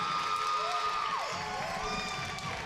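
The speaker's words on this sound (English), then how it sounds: "Crowd coming alive here in the fifth set." A crowd at a women's college volleyball match in the fifth set, Canyons against Pasadena, produces a steady wash of cheering and shouting in a gym, moderately loud and continuous.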